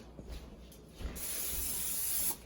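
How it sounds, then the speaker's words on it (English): A steady aerosol hiss of cooking spray onto an 8x8 baking pan runs for about a second, preceded by faint handling bumps and clicks. "we're going to spray the pan"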